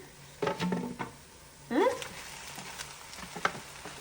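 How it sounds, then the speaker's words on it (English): Ground meat for a Bolognese sauce browning in a pan, sizzling close by with bursts of scraping and handling as it is broken up, some quieter stretches in between. "the next step is we're gonna brown our meat"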